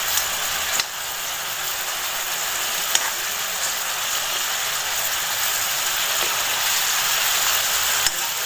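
Chicken ghee roast frying in a pan at home: a steady, close, hissing sizzle that holds level throughout, with a few faint clicks of the pan and no talking.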